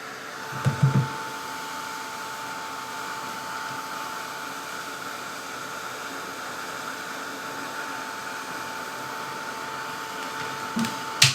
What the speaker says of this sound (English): I'm going to take the heat gun and really give it a good drying out.